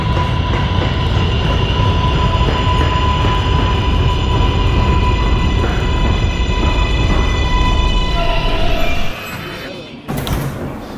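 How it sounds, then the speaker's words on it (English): An R143 subway car on the R train runs with a steady heavy rumble and a rising electric motor whine. Near the end it drops off, then a short sharp burst of noise follows. "This is a 74th Street bound R train."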